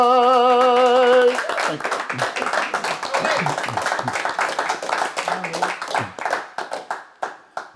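Audience clapping breaks out after a recited ballad, starting as a held sung note fades, then a dense round of hand claps from a small crowd that gradually thins and tapers off.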